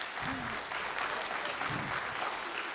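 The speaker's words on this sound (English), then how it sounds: "So give him an extra applause." Audience at a GalaCon convention clapping steadily in a sustained round of applause, full and continuous throughout, with a voice briefly rising above it.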